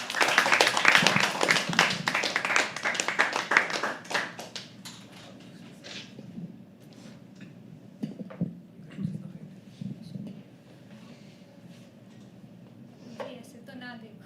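Audience clapping at a live poetry open mic, dense and steady for the first few seconds, then thinning to scattered claps under room murmur and voices.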